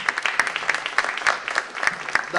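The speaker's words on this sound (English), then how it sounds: "Let's give him another round of applause." Audience at a webcast event clapping, dense and close, with no voices over it.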